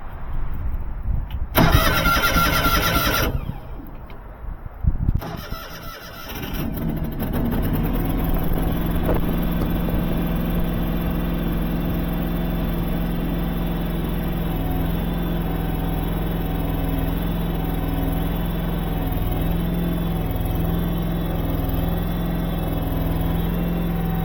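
A Kohler engine on a Terramite T5C tractor, with a newly replaced starter, gives a loud burst of cranking, then catches and settles into a steady, close, even idle.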